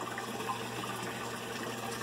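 Water flows steadily through a settling filter in a tilapia tank, a continuous close rushing and trickling with no pauses or talk.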